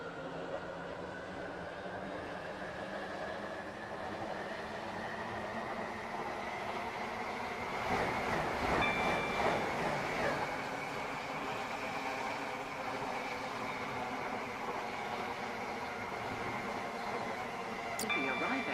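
Airlink shuttle train in Stepford County Railway running steadily on the line, a continuous rumbling drone with a brief louder swell midway, while automated announcements play over it.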